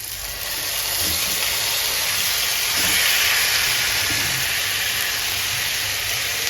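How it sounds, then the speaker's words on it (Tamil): Marinated curd chicken fries in masala in a pan, a loud steady sizzling hiss that fills the whole stretch, with faint stirring knocks under it. "அந்த சிக்கனை இப்போ சேர்த்து அப்படியே திருப்பி கொடுக்குறாங்க"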